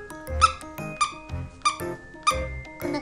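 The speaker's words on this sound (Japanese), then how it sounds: "これはピーピー鳴るおもちゃなんだけど" A squeaky rabbit plush dog toy being squeezed, giving five sharp, loud, evenly spaced squeaks, each a bright whistling peep about half a second apart.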